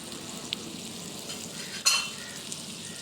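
Tomatoes fry in a pan for chicken shawarma filling, giving a soft, steady sizzle with a couple of light utensil clicks and one sharper metallic scrape.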